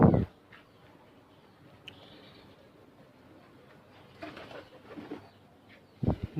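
Pet pigeons in a home loft give soft, low coos at a distance, with a few sharper bursts of handling or wing noise at the start and near the end; no talking.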